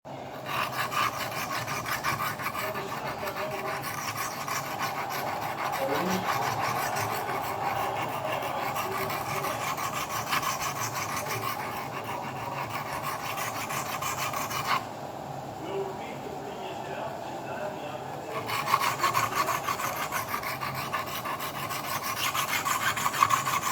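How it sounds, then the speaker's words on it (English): A Scandi grind knife is drawn back and forth across sharpening stones, giving a continuous rhythmic scraping rasp that runs steadily throughout, close and fairly loud with no talking. "sharpening a Scandi grind is intuitive because you just set this whole thing on your stones and you go back and forth like that"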